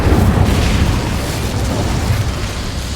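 A fiery Incendio spell blast in the Hogwarts Legacy video game: a loud, sustained whooshing burst with a heavy low rumble that eases slightly but keeps roaring for about three seconds, with no talking.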